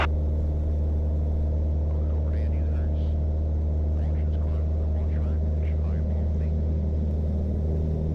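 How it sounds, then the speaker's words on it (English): An aircraft engine roars at max takeoff power as a steady, loud low rumble heard from inside the cockpit, with faint voices talking over it. "And take off. Max power."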